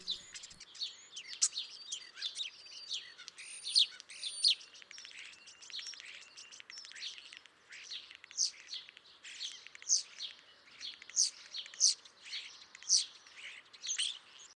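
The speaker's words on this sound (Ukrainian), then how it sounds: "це шпак, перший вісник весни" A common starling singing, a busy run of varied whistles, chirps and rasping notes in quick bursts, fairly close against a quiet background, with no talk.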